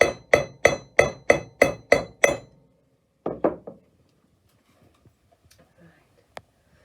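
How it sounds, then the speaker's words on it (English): Seven evenly spaced hammer strikes ring out on metal in a forge workshop after quenching, followed by a short pause and a couple more blows, then near silence with faint clinks. "going to do a bit more hammering"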